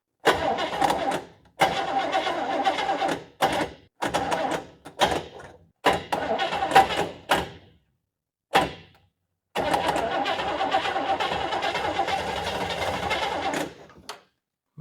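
A barn find car's engine cranks over and over with the ignition switch, bursts of rapid rhythmic starter churning broken by short pauses, ending in a longer sustained crank.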